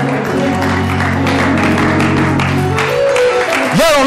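Church congregation clapping hands during a sermon, a dense steady wash of applause mixed with organ or music tones, loud and continuous, with a rising tone near the end.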